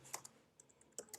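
Quiet, close clicks of a computer keyboard come in a short, uneven burst of keystrokes, with no voice over them.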